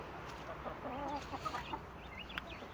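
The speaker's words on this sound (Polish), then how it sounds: "To jest kogucik." A rooster gives soft, low clucks and short throaty calls, fairly close, over a steady background hiss with faint chirps.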